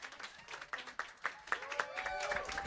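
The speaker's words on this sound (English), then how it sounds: "Big round of applause" Crowd at a concert on the StubHub stage claps and cheers, with high whistles rising near the end, as the audience welcomes the performers; the applause is moderately loud and steady, with a voice speaking over it.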